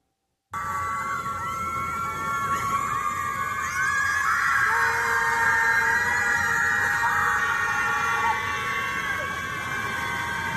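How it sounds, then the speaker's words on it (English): Women screaming in anger at Lake Michigan, sustained wailing shrieks that rise and fall like a siren, loud and continuous with a crowd-like wash behind. "Liberal white women screaming at Lake Michigan in anger over President Trump's victory."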